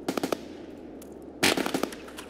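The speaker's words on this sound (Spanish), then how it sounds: "Tiros por donde hemos venido" Bursts of rapid gunfire crackle in two clusters in the video game Escape from Tarkov, sharp repeated shots at moderate distance, with no talking.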